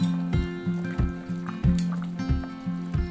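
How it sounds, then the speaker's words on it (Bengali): Fried omelettes are dropped into a boiling egg curry with potatoes. Soft liquid plops and bubbling thumps come at a quick, uneven pace over a low steady hum, close by and moderately loud. "জাস্ট এবার অমলেট গুলো ছেড়ে দিচ্ছি।"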